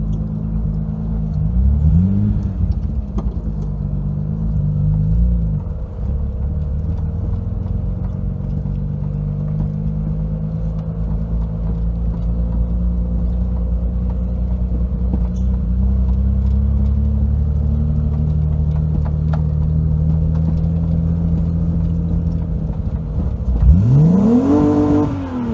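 A VW VR6 car drives with a steady engine drone, with rising rev sweeps near the start and again near the end as it accelerates close by.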